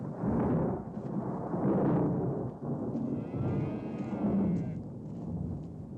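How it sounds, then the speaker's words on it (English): Thunder rumbles through a storm in a Western frontier setting, with loud, rolling low booms that swell and fade over several seconds, almost continuous and close. "Kurt, the thunder's frightening the oxen"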